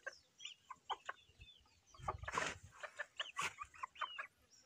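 A Super Brown Red gamefowl hen clucks close by in a series of short, sharp calls with irregular pauses, plus one louder, harsher burst partway through.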